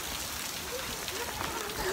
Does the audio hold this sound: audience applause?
no